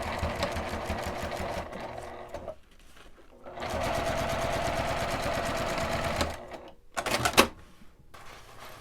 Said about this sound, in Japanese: ここに端ミシンをかけます